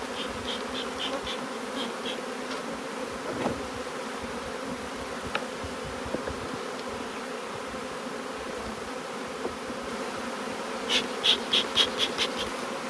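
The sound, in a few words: honey bees buzzing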